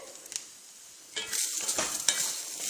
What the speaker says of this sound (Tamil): வெறும் சட்டிலேயே போட்டு வறுத்து எடுத்துக்கலாம்